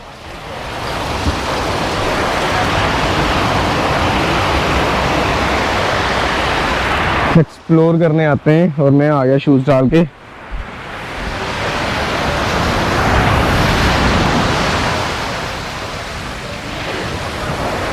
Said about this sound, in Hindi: तो ये आप देख सकते हो लहरें